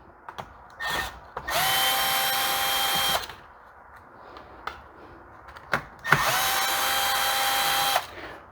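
A Stihl weed trimmer fitted with a new pull cord gives two rasping, whirring bursts of about two seconds each, separated by quieter clicks and handling noise.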